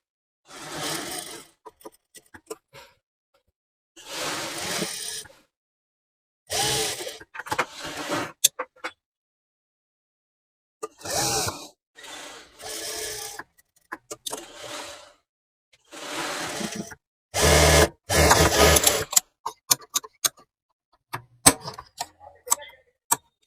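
A sewing machine stitches a drawstring step kurti in short bursts of fast mechanical whirring, separated by silent pauses, loud and close.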